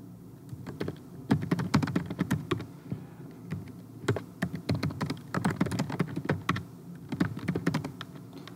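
Someone types on a computer keyboard, entering details into a PDF form for a new person. Quick bursts of close key clicks come in uneven runs with brief pauses, loud and alone, with nobody talking.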